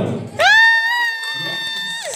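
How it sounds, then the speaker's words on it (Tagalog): A crowd at a 60th birthday party cheers with a long, high shrill whoop that rises and holds, then fades, with a brief burst of noise before it. "Parinig naman ng palakpak at ng hiyaw."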